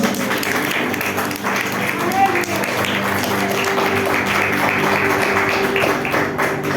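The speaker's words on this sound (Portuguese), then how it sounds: "uma linda salva de palmas para Jesus" A church congregation claps for Jesus in a steady, sustained round of applause, with voices speaking over the clapping.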